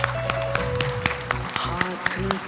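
An audience at a numerology meet-and-greet programme in Mumbai claps in a steady, quick rhythm, with a voice talking over the claps.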